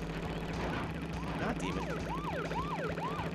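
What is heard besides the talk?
police car siren in video game Crash Bandicoot 3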